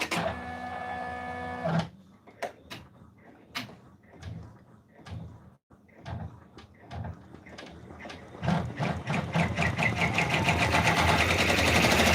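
An in-the-hoop embroidery machine stitches a raccoon stuffed toy, with a steady mechanical hum at first, then sparse ticking and tapping, building to a loud, continuous rapid stitching rattle near the end.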